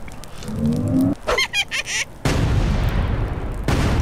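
Explosions in the Worms Ultimate Mayhem video game: a short burst of crackling game noise, then a loud booming blast that rumbles on for several seconds, with no talk.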